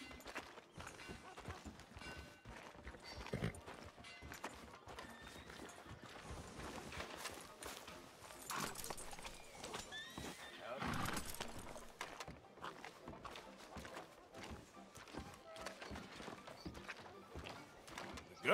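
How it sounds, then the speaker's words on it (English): Horse hooves clip-clop in Red Dead Redemption 2, a steady walking rhythm of hoof falls with game ambience, fairly quiet and continuous throughout. "Tether the horse and I'll meet you across the street."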